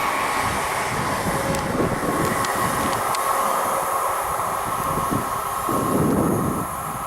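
A London Midland Class 377 electric train passes through Cheddington station, heading to London Euston. It makes a steady, loud rushing roar of wheels and motors that holds for several seconds, with no talk over it.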